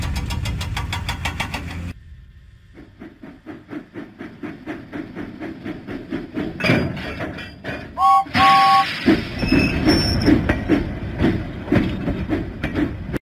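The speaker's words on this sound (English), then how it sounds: "James pumped his pistons and puffed out of the docks." James, a steam engine in a Thomas and Friends video game, puffs in a steady, rhythmic chuff that speeds up and grows louder, with a brief whistle-like tone midway, over background music.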